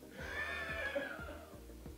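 A person imitates a horse's neigh with a drawn-out, wavering whinny lasting nearly two seconds, close and clear during a drawing and guessing game among footballers.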